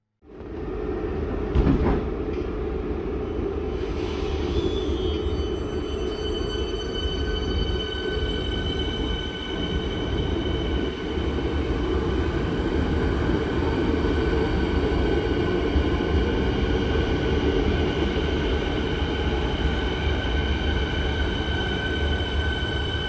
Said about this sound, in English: watch a pair of Nexus trains depart, and a pair to arrive